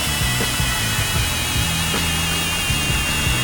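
Cordless 12V brushless drill running in drill mode at speed 1, a steady whine with rhythmic rattling pulses from the motor and chuck, close and fairly loud, no voices.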